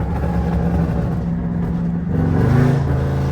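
A Jeep 5.7 engine revs loudly during a night drive, a continuous deep roaring rumble that rises in pitch and intensity toward the end, close and dominating.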